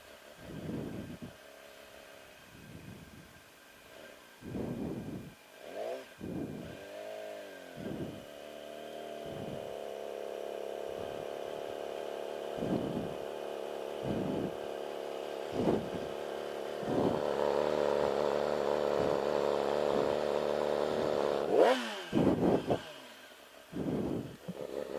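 A motorcycle engine revs hard during a burnout on a warmed-up rear tire, rising from short repeated throttle blips to a long sustained high-pitched roar before cutting back, with no talking.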